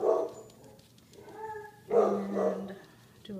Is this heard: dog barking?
yes